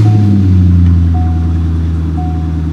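A Chevrolet Corvette engine, jump-started with a Hulkman Alpha 85 jump starter, rumbles steadily at close range with a deep low hum, while a faint repeating warning chime sounds over it.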